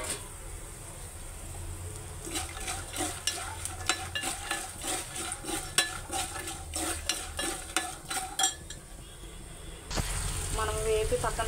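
Mustard seeds, chana dal, urad dal, dried red chillies and peanuts sizzle and crackle in hot oil, with steady frying hiss and a spoon stirring and scraping the pan, then a louder burst of sizzle near the end.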